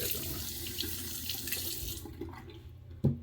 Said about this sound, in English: I'm gonna do a quick cold water rinse